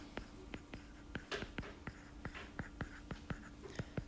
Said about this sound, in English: So, let's write our expression